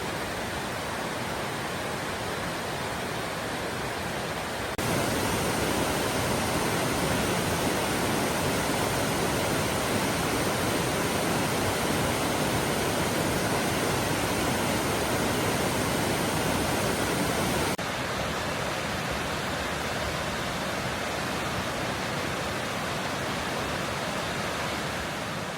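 Yudaki waterfall at Okunikko, Japan, pours in a steady, dense rush of falling water, constant and broadband, growing noticeably louder through the middle stretch before easing back to its earlier level.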